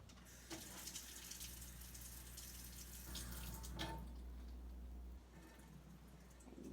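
Cold water runs from a kitchen tap in a home cooking setting: a steady, close hiss of flowing water across the whole stretch, with a few clinks and splashes on top, and no talking.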